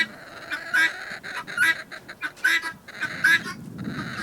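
Guinea fowl on a homestead give repeated harsh, rhythmic squawking calls in quick bursts, fairly close, with a few overlapping cries from the flock.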